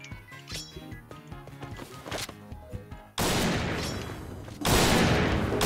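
Gunfire in the shooter game Point Blank, with a burst of sharp rapid shots followed by loud sustained automatic fire and a second heavy volley, while voices talk underneath.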